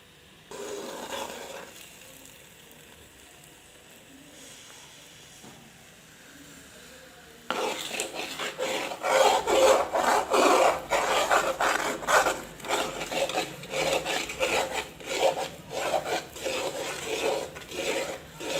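Aloe vera halwa roasts in ghee as a spoon scrapes and stirs it around the pan, starting as a soft low sizzle, then turning into loud, rhythmic, rasping strokes up close.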